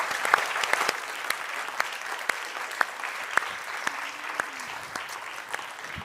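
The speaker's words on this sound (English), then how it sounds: "we'll applaud you all, so thank you." An audience claps at the close of an evening talk event on loneliness, a steady, moderately loud spread of hands with a few sharper claps standing out, lasting about six seconds.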